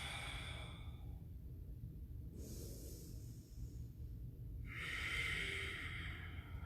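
Slow, deep breaths during a power yoga flow, long drawn inhales and exhales rising and falling in steady cycles, close and breathy with no talking.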